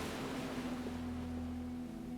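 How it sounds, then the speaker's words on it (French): Soothing, distant ocean waves rolling onto a shore in a steady, even wash, with a low constant hum underneath and no voices. "le bruit apaisant de vagues lointaines"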